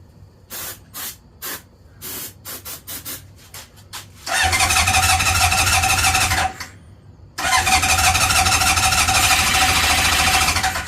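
Honda CB750 motorcycle from a barn find, with a few short hissing bursts followed by two long, loud, steady stretches of electric-starter cranking, broken by a brief pause.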